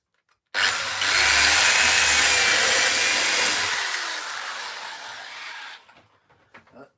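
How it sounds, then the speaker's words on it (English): A power drill bores holes in wood with one loud, close, continuous whirring burst that runs for a few seconds, then eases off and winds down to quiet, with no talking. "I am drilling these, but I'm not countersinking them"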